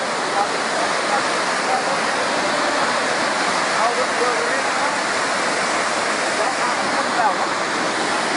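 Floodwater rushing through a swollen river at Sonprayag in Rudraprayag, a loud, dense, unbroken roar that fills the whole scene from start to end.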